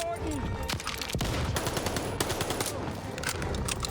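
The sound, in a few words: MP40 submachine gun firing in Call of Duty: Vanguard video game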